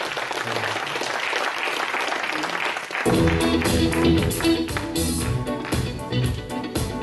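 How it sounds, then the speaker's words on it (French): Audience applause at a personal development talk on beliefs and emotions, a steady wash of clapping that swells louder and denser about halfway through, mixed with music entering underneath. "Je crois qu'on peut l'applaudir beaucoup plus fort que ça."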